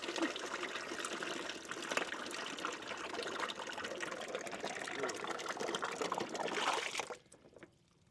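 Water draining out of the transmission of a TD25G dozer, a steady broadband splashing flow that runs continuously and close by, then cuts off near the end, leaving quiet.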